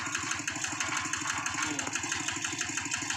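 A modified tractor engine, tuned to its maximum, chugs loudly and steadily nearby while plowing wet clay soil, its rapid knocking beat pounding evenly under a strained, working drone.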